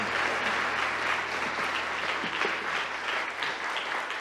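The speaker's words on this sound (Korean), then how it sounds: "우리 박수하겠습니다." A church congregation claps together during a Sunday worship service, a dense, steady wash of applause that holds evenly for the whole stretch with no talking over it.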